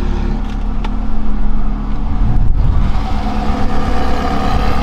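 A sports car idles close by with its exhaust valve closed, a muted, low burble briefly swelling in a short rev before settling back to a steady hum.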